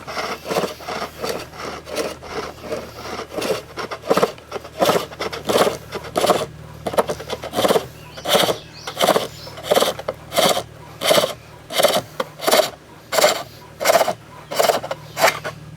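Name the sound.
turning tool scraping a wooden bowl on a lathe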